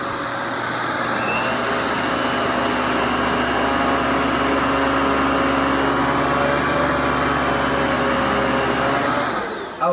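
Kenmore Progressive 21514 canister vacuum running on high suction over salt and oatmeal on the floor, a loud, continuous, steady whirring drone with a faint high whine, running throughout and cutting off at the very end.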